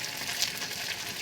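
Vegetables fry in a pan along with fried coriander leaves, giving a soft, steady sizzle with faint crackles, quiet and close, and no one speaking.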